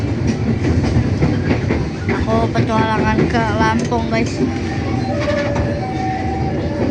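A KRL commuter train ride heading to Rangkas Bitung, with a continuous rumble and rhythmic rail clatter and a few brief squealing tones, while a person talks close by over the noise.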